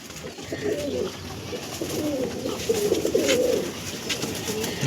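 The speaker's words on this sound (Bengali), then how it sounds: "পায়রার কোয়ালিটি দেখো ভাই, পায়রা স্ট্যান্ডিং দেখো" Andhra pigeons coo in soft, low rolling phrases, several overlapping calls continuing steadily nearby.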